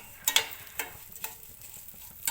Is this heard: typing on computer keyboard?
no